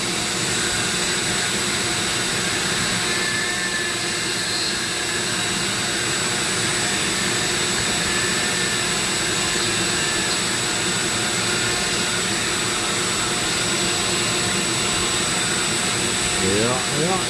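A Dremel rotary tool grinds steadily into a pumpkin, a continuous high-pitched whirring drone held close for the whole stretch with little change, no speech.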